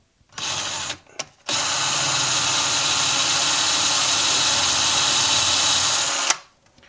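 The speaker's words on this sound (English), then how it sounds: "I'm going to drill a pilot hole" A power drill bores a pilot hole into wood with a close, steady whine, starting with two brief bursts and then running continuously for about five seconds before stopping.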